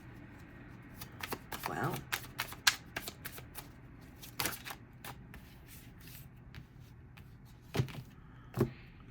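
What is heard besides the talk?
tarot cards being shuffled and laid out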